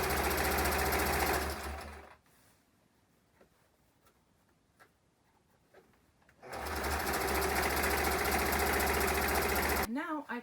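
A sewing machine runs fast and loud, stitching a curved seam on a pattern-free cosplay dress. It whirs steadily, pauses for several quiet seconds with light handling noises, then runs again at full speed.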